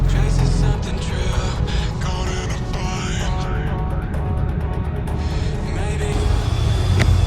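A car drives along the road toward a shop, giving a steady, close engine drone and road rumble throughout while a voice talks over it.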